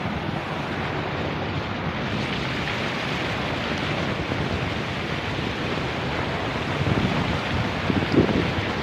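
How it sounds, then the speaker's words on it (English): Steady roaring rush of a waterfall splashing down into a resort pool, a dense continuous wash of noise close to the microphone. "And of course, we'll hit this waterfall."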